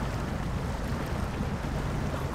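A truck engine in the off-road driving game Snowrunner drones steadily with a revvy, rumbling exhaust note, loud and continuous throughout.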